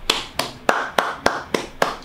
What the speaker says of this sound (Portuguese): Palmas, palmas pra mim,